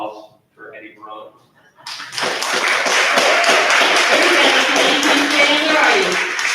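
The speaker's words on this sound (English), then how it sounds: "I would like to say a round of applause for Eddie Verona" After a couple of seconds of speech, a council meeting audience breaks into sustained applause for a departing member, dense clapping from many hands that stays loud and steady to the end.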